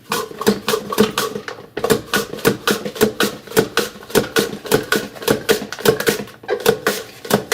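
A knife slices apples for apple chips on a cutting board, a fast steady run of sharp chopping taps with a couple of short pauses and no talk.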